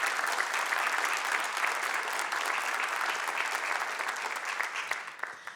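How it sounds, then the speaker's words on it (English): An audience at a community report event breaks into loud, dense applause that holds steady for several seconds and then tapers off near the end. "this is my team, and they deserve a round of applause as well"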